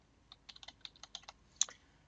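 Password typed on a computer keyboard: about a dozen quick, light key clicks in an uneven rhythm, close and quiet, ending with one sharper, louder keystroke and no talk.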